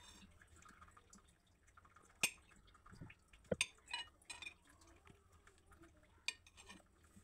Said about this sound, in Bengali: আমি 2টা ডিম সিদ্ধ করে নিয়েছি, এগুলো আমি একটাকে 4 পিস করে কেটে নেব